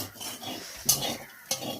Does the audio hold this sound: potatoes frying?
yes